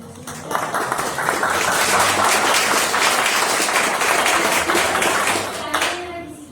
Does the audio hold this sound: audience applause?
yes